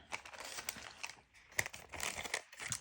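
Parchment paper crinkles and rustles in short, uneven bursts as it is trimmed with scissors, close by and fairly quiet, with brief pauses between handling.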